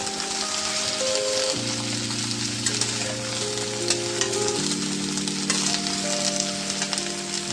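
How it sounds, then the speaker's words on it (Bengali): Broad beans (shim) frying in a pan and being stirred, with a steady, close hissing sizzle that runs throughout, broken by light scraping stir sounds and faint crackles. Soft background music plays underneath. "এবার শিমগুলোকে আমাকে একটু ভালো করে ভাজা ভাজা করতে হবে"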